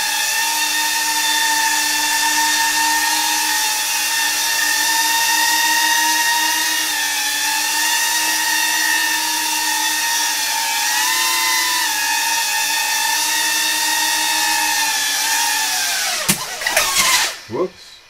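Small drone motors whine in a steady, high tonal hover that wavers slightly in pitch for about sixteen seconds, loud and close, then spin down abruptly with a brief clatter.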